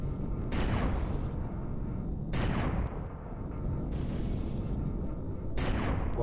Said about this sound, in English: I'm targeting you directly with the front plasma cannon